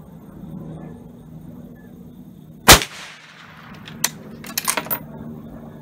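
A .308 Winchester rifle firing a cast bullet without a gas check lets off one sharp, loud report at an outdoor range, followed by a few fainter metallic clinks and knocks.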